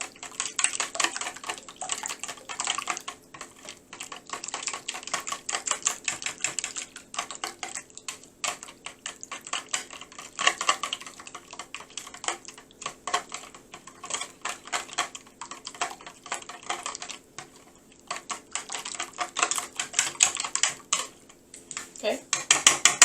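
Milk mixture being stirred in a bowl for chicken fried steak batter, a steady rapid clinking and scraping of utensil against the bowl that runs continuously and close up.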